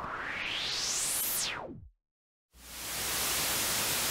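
Loud hissing noise through a resonant low-pass filter in Reason Studios Sweeper, a whistling peak rising steadily in pitch, then falling sharply and cutting to silence before broadband hiss returns.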